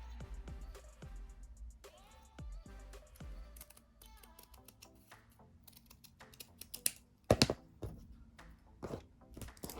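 Scissors cutting diagonally across satin ribbon for a hair bow, a series of close, crisp snips in an uneven rhythm, with a few sharper clicks and handling sounds in between.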